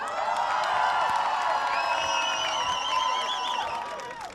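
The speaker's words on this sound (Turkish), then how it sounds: "Uğur Polat geliyor alkışlarımızla" An audience at a farewell gathering for a Turkish TV series cast cheers and whoops continuously, a dense, loud crowd roar sustained throughout with some voices rising above it.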